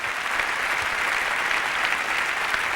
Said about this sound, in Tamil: அவர்களுக்கு உங்களுடைய அருமையான பாராட்டுக்களை முதல்ல நீங்கள் சொல்லணும்.